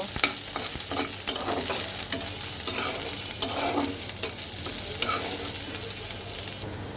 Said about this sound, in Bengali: পেঁয়াজটাকে খুব সুন্দর করে একটু ভেজে নেব